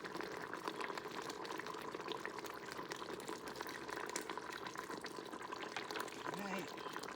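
Flour slurry is poured into a pressure cooker holding simmering cube steak, giving a continuous bubbling, gurgling liquid sound at low level, with a person talking in the background.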